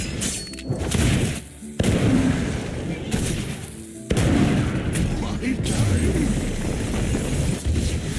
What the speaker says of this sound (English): We have two warning shot incoming too.